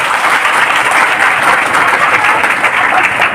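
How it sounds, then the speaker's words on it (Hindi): Audience at a business seminar clapping in unison, a dense, loud, steady burst of applause lasting a few seconds with no talk over it. "एक बार ताली बजा दो।"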